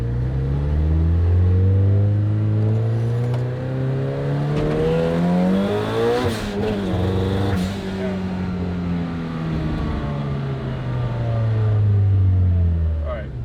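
A twin-turbo Ford GT engine drones steadily while the car drives, its harmonics rising and falling with throttle changes, loud and continuous from start to end.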